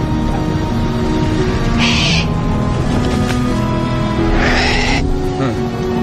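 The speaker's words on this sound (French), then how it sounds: "C'est Dermot, l'oiseau de Maeve." A sorceress's bird gives two shrill, raspy cries a few seconds apart, and the second cry lasts longer. Both cries sit over a steady low hum of background sound.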